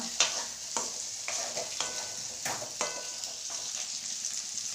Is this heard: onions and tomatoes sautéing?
yes